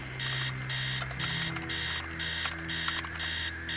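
An alarm sounds in the video game Stories Untold, a loud repeating electronic beep in regular bursts of about half a second with short gaps, continuing steadily over a low background hum.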